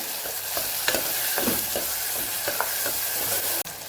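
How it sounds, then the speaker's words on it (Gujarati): Garlic chutney and tomatoes sauté over a low gas flame, a steady close sizzle broken by repeated scraping stirs of a spoon in the pan. "લસણવાળી ચટણી સતળાય છે"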